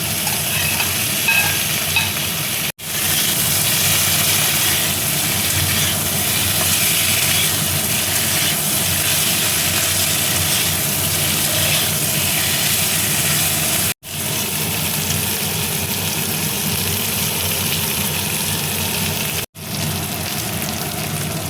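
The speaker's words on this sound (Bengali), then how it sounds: "পনিরটাও দেখো আমি হালকা করে ভেজে নিলাম।" Paneer cubes frying in spiced oil in a pan make a loud, steady, unbroken sizzle and hiss, close up, with only a couple of abrupt cuts.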